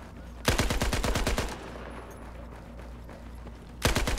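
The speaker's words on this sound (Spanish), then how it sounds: "hay un enemigo que va con ametralladora" Machine gun fire in the video game Battlefield 4: a rapid burst of about a dozen loud shots, a quiet stretch of background game noise, then another burst starting near the end.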